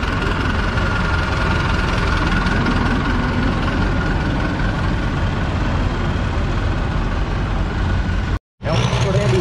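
An LS Guardião tractor engine idles at a Trekker Trek pulling event, a loud, steady low rumble with a knocking pulse that continues unbroken before cutting out briefly near the end.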